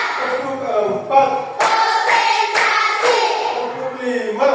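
A classroom group claps a counted rhythm pattern in unison, sharp hand claps in bursts over about four seconds, with chanted voices mixed in.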